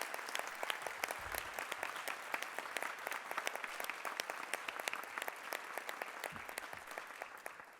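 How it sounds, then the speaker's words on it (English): Spectators at a district-wide school spelling bee applaud the contestants with continuous, many-handed clapping, faint and distant in a large hall, holding steady for about eight seconds. "Let's give all of our contestants a round of applause."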